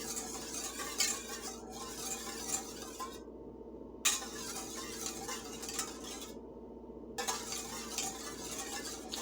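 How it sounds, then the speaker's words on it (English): A whisk beats a mixture in a bowl until foamy for candied pecans, giving rapid continuous clinking and swishing in close bursts with two short pauses, with no talk. "We just want to whisk it until it becomes a little foamy."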